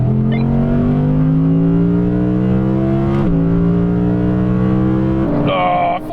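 Two cars, an Audi RS6 GT and an Audi R8 GT, accelerate hard side by side in a drag race. A loud, rising engine roar climbs steadily, drops once at a gear change near the middle, then shifts again just before it cuts off.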